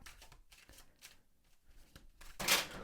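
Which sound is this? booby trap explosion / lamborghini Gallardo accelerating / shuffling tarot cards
shuffling tarot cards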